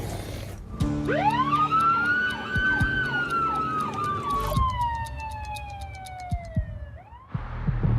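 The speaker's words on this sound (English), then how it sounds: "It's the ambulance, okay?" A wailing UK ambulance siren in Nottingham rises and sweeps up and down steadily for several seconds, fairly close, then cuts off abruptly with a short falling tail.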